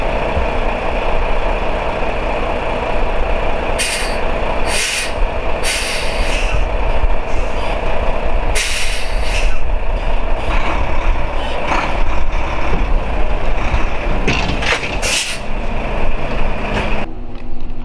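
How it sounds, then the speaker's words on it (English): A semi tractor backs under a trailer to couple, its diesel engine idling and rumbling steadily with bursts of air hiss and brake release, plus mechanical clunks as the rig creeps into the fifth wheel. "I'm going to go ahead and jump in the tractor and back under the trailer now."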